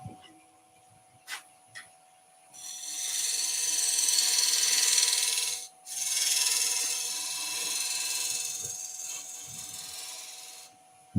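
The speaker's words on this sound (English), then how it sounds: "I'm going to put a little base down. So let's just put a little flat area in. Let's go with my skew." A skew chisel scrapes across a spinning ash bowl on a wood lathe, a steady hissing rasp that runs for several seconds, breaks off briefly, then resumes and fades, with light knocks at the start.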